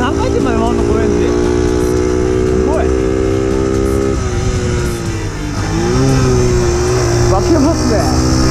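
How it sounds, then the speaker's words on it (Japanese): A modified Honda Super Cub motorcycle engine revs up close and loud, its pitch climbing, holding and rising again, with someone talking over it. "これ何回転まで回るの、このエンジン。"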